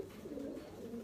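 Pigeons kept by a breeder coo softly and continuously at close range, a low rolling murmur heard on its own.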